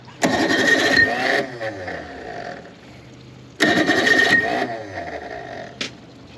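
An old Chrysler outboard engine on a Haines 170 tri-hunter boat cranks in two loud bursts of grinding and sputtering that fail to catch, with quieter pauses between the attempts.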